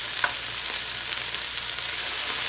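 Chicken shawarma sizzling in a pan as it is cooked in batches, a dense, even frying hiss with scattered spits and pops, close and loud with no one talking.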